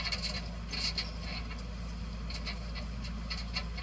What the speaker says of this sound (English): There's the conveyor on.